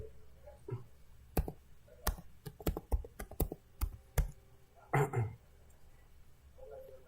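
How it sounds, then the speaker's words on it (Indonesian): Typing the ipconfig command on a computer keyboard, heard as a quick burst of sharp, close key clicks with uneven gaps and a faint background hum, no voices. "Kita coba ketikkan"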